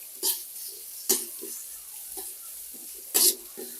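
Onions with curry leaves fry in a pan, a soft steady sizzle with a few sharper clattering stirs spaced out over the span, fairly quiet and close.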